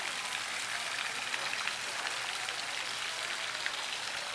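Water from a garden fountain with several frog statues streams steadily into a pond, a continuous even splashing hiss held close without pause.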